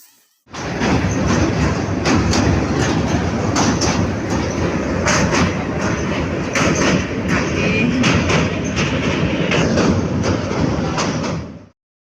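A loud, continuous rumble of a train at Sylhet railway station in Bangladesh, with rhythmic clanks and rattles throughout before it cuts off.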